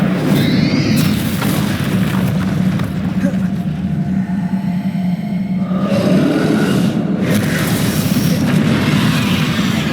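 Explosive Confringo spell blasts in Hogwarts Legacy, loud booming bursts in a dense, continuous battle din, with a voice calling out over the noise throughout.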